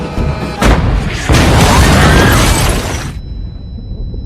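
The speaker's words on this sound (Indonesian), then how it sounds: "sebuah meriam ditembakkan ke gedung tersebut" A loud cannon blast fired at a building hits with a heavy boom and crashing debris, followed by a sustained roar of destruction that cuts off abruptly.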